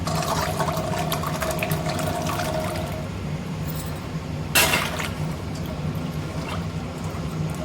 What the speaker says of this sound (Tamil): இப்போ நம்ம சுண்டைக்காயை அலசிக்கலாம்.